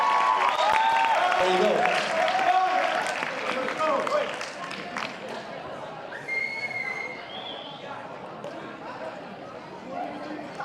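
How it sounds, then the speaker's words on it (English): An audience at a school award ceremony at GEMS Founders School, Al Barsha, claps in a sustained wash of applause with some cheering, while a person talks over the crowd. "Give a big round of applause."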